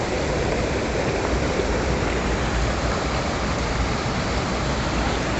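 Cold water pours over a small waterfall near the Tirumalai Nambi cave temple, a close, continuous roaring rush that stays steady and loud throughout, with no voices.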